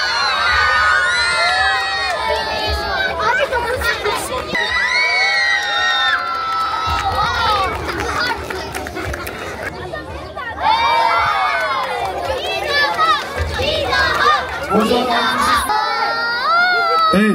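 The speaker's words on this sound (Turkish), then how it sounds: "Evet, kuvvetli alkışlar geliyor sevgili çocuklar." Crowd of children at a science festival in Meram cheering and shouting continuously, loud and close, with excited voices rising and falling throughout and bursts of cheering.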